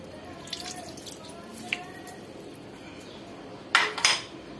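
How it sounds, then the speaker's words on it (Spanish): Lemon juice drips into a pot of cooking sardine locrio: a few faint, scattered drips and taps, then a louder cluster of splashy clinks close by near the end. "Como no tengo naranja agria, le echo limón."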